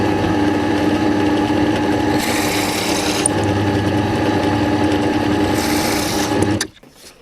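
Loud, steady whirring of a power drill with an 11.5 mm bit boring holes completely through a furniture part, running continuously with brief shifts in pitch, then stopping abruptly.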